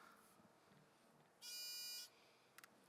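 A quiz-game buzzer at an entomology competition is tested, giving one loud, steady electronic buzz about half a second long, then two quick short beeps in an otherwise quiet room.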